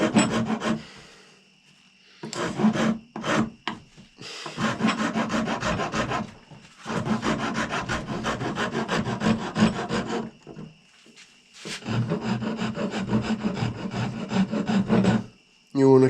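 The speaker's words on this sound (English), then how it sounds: "I'm going to take a 4-in-1 rasp and I'm going to start filing" A 4-in-1 rasp files the wooden edge of a powder horn in rough, rapid back-and-forth strokes, grouped into several long bursts separated by short silences, loud and close.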